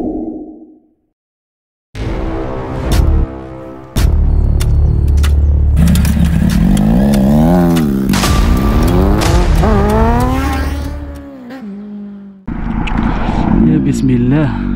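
A tuned motorcycle engine revs loudly and close by, its pitch climbing and falling in repeated sweeps after a brief silent opening, with sharp throttle blips and a short pause before it roars again.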